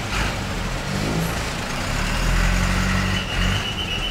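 Busy street traffic in Manali, India, with the continuous rumble of trucks and car engines nearby, occasional hissing brakes and a steady roar with no gaps.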